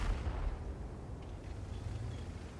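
Artillery fires in a video game battle, a faint, distant rumbling boom that rolls on as a low, steady roar with no talk.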